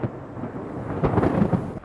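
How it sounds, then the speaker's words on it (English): Violent thunderstorm thunder rumbling loud and fairly near, a broad low roll that swells with a few sharper cracks and booms toward the end, no voices present. "very violent thunderstorms with a mixture of hot arid dry air and hot humid air"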